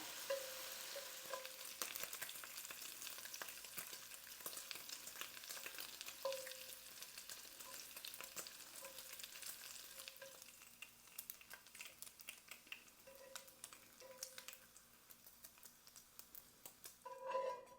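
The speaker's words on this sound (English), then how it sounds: "I'm frying up some bacon in my large cast iron skillet" Bacon frying in a large cast iron skillet, a steady soft sizzle and crackle running throughout at low level, with no talking.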